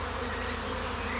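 Steady insect buzz from a wasp queen at the top left of a beehive, among bees in busy foraging flight, a continuous close drone filling the short moment with no talk.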